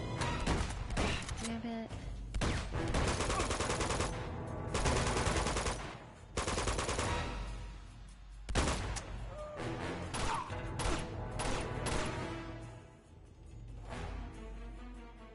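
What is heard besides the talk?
gunfire from AI soldiers in Uncharted 2 video game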